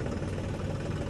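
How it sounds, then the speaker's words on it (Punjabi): A John Deere tractor engine idles close by with a steady, low, rumbling drone and even vibration throughout. No other sounds stand out. "ਹੁਣ ਟਰੈਕਟਰ ਅੰਦਰ ਕਰ ਲਈਏ"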